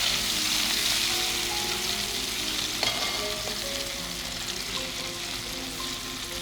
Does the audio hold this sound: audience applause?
no